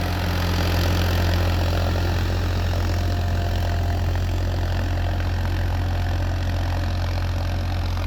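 A Farmtrac 50 EPI Power Maxx tractor working a field with an 11-tine tiller gives a steady, continuous diesel drone with a deep low rumble, holding an even level throughout with no talking.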